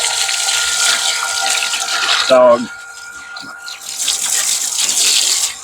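Water poured out of buckets, a broad rushing gush that carries steadily through most of the stretch, briefly broken by a short tonal burst and a quieter dip before the flow swells again, with a single spoken word near the start.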